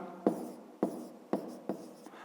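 Handwriting with a pen on paper while working a school maths problem: four distinct short scratchy strokes at roughly half-second intervals, close and quiet, with no talking.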